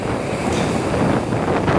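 Steady, heavy gusts of wind roar across a microphone on the rocky eastern Taiwan shoreline, a dense close rumble with possible surf beneath and nobody speaking.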